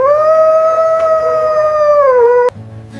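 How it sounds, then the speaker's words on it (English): Dog howling along to singing: one long, sustained, tonal howl held near and loud, sagging slightly in pitch before cutting off abruptly, followed by a quieter whining tone. "You will happily howl along with me to create a beautiful, chaotic family song"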